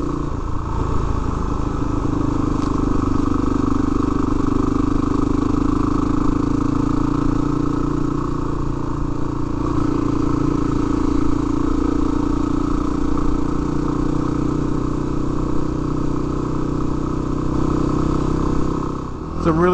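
A motorcycle rides a rough, partly repaired dirt road in Idaho's Magruder Corridor, its mid-pitched engine droning loud and steady throughout with continuous road rumble and clatter, no speech.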